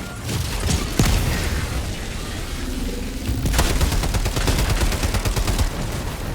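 Gunfire in the video game Army of Two comes as dense, rapid bursts and sharp single shots, loud and continuous across the whole stretch, with mechanical clatter mixed in.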